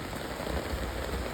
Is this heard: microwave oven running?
no